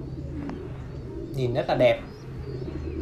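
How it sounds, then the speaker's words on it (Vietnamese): Thai Titan meat pigeons coo in short throaty bursts at close range, with a person talking over them. "cái dòng chim bồ câu Titan Thái siêu thịt"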